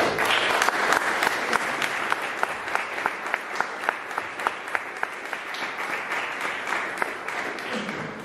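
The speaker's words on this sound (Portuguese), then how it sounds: "Uma salva de palmas." A seated audience gives a sustained round of applause for an invited architect speaker, steady dense clapping with a few sharper claps standing out, heard close and without talk.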